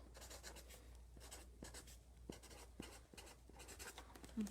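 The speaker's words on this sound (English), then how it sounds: "So I'm going to write my name as neatly as possible." A pen writes a name on a letter envelope, giving faint, close scratchy strokes in short rhythmic bursts over a low steady hum.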